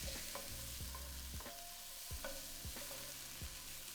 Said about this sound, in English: Now add a thinly sliced onion to the pan and we're going to cook for about 3 minutes, stirring often until the onion softens.